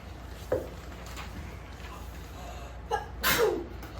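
Two sneezes, a smaller one early and a louder, sharper one near the end, against a quiet room background.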